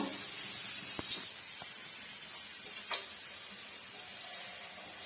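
Soya gobi manchurian pieces fry in hot oil, giving a steady, moderately loud sizzling hiss throughout with a few brief spattering pops, no voices.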